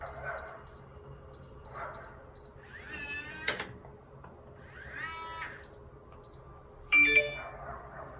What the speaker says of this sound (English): I got a hijack alarm on my phone